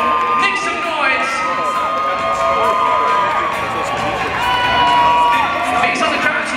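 A crowd at the Toronto International Boat Show winter wakeboard show cheers and shouts loudly, a sustained roar of mixed voices and whoops with children's cries rising and falling throughout.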